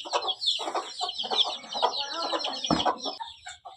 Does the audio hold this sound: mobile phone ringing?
no